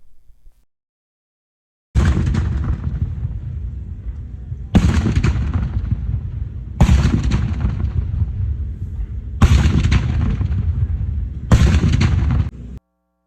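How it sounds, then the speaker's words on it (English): Cannon salute fired at the start of a military ceremony at Fort Gordon: five loud, separate booms about two seconds apart, each with a long rolling decay, heard alone with no talking. "also cannon fire salute was given as a sign of respect to begin the ceremony"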